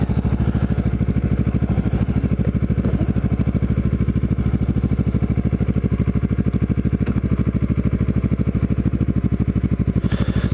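A Kawasaki Ninja 650R motorcycle engine drones steadily and close while riding through the seaside town of Cape May on an overcast day, a constant low rumble with no pauses.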